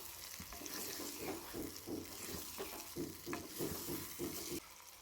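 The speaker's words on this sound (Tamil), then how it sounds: "இந்த எண்ணெயிலே சின்ன வெங்காயம், பூண்டு, தக்காளி, பச்சை மிளகாய் எல்லாம் நல்லா வதங்கி வரணுங்க." Shallots, garlic, tomato and green chilli sauté in oil, a steady close sizzle broken by regular scraping stir strokes roughly every half second, with no talking.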